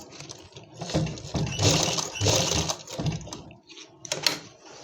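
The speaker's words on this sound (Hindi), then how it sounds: "अब हम इस पर 2 या 3 बार पक्की करके अच्छी तरह सिलाई लगा लेंगे" A sewing machine runs in several short, closely spaced bursts with brief pauses, stitching elastic onto an Afghani plazzo, fairly close and moderately loud.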